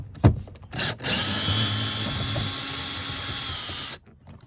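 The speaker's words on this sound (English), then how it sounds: "Now you need to remove the screw." Power screwdriver backing a screw out of a Toyota Camry door panel: a couple of brief knocks, then a loud, close, steady whine for about three seconds before it stops abruptly.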